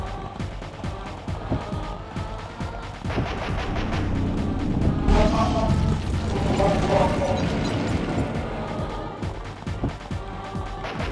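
Missile launches and explosions in the PS2 game Sly Raccoon during a boss fight, dense rapid bursts and booming blasts layered over game sound effects, continuous and loud.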